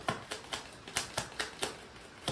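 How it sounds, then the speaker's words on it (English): Tarot cards are shuffled in quick, evenly spaced taps, about nine sharp close-up clicks in a steady rhythm with no talking. "I need to shuffle, Larry."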